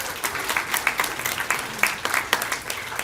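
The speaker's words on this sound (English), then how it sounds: "Let's give them a round of applause." Applause from an indoor audience at a public announcement event in Worcester, with steady, fairly close clapping that continues throughout, without anyone speaking over it.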